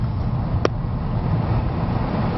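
Inside a car driving along a road, a constant low rumble of road and engine noise fills the cabin, with one brief click near the start and no talking.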